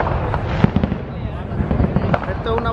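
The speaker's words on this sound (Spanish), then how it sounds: "Esto es una variedad de todos los juegos artificiales que se efectúan aquí el 4 de julio" Fourth of July fireworks display in a Dominican neighborhood of New York, with repeated crackling bursts and pops over a steady crowd murmur, fairly loud and continuous throughout.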